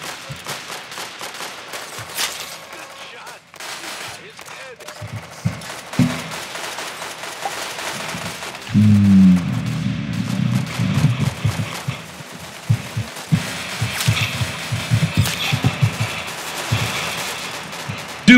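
Sustained gunfire in the Arsenal video game: scattered bursts and single shots crackle throughout, some close and loud, others farther off, amid busy game noise.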